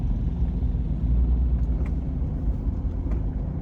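Classic cars roll along a road in Cornwall, a steady low engine and tyre rumble passing close by without pause, with no voices over it.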